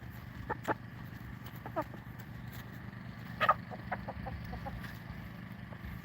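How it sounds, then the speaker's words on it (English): A rooster among backyard homestead chickens gives a few short, scattered clucks and squawks, fairly faint over a steady low hum, with one slightly louder burst midway. "Here's our rooster."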